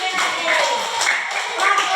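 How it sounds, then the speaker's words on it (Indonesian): A second-grade primary school class claps together in a short burst of brisk, steady applause, with children's voices mixed in. "Tepuk tangan lagi."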